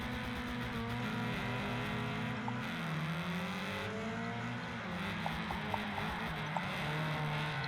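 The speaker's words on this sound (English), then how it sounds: "I'm struggling to drive a Fiat 500" A Fiat 500 engine in Wreckfest 2, a steady droning motor with shifting pitch and faint tire noise, continuous and fairly loud with no talking.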